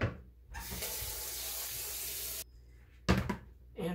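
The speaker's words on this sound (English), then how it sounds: "So I just chop it, put it in my strainer. Now I'll rinse it off." Tap water runs steadily for about two seconds over chopped lettuce in a kitchen strainer, then stops, followed by a few clunks and a short second burst of running water.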